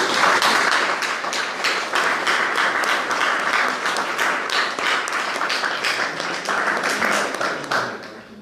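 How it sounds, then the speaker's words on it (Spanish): An audience at an open training session gives a round of applause, dense, loud clapping from many hands that holds steady for several seconds before tapering off. "Un aplauso."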